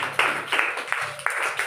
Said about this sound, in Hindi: चलो ज्योति के लिए जोरदार ताली बजाओ